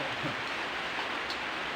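Rain falls in a steady, even wash of patter on surfaces, continuous and fairly close with no other sounds standing out.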